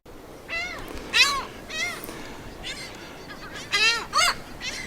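Seagulls call at the beach in a run of sharp, repeated squawks from several birds, some near and loud, others farther off, over a soft background hiss with no talk.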